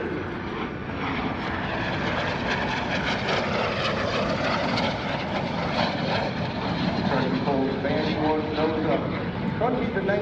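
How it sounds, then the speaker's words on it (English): A US Navy F/A-18 Hornet flies an airshow demonstration pass, its engines making a continuous loud roaring wash with shifting tone throughout, while an announcer talks over it. "He pulls off coming from the left in the airplane we call Vandy 1."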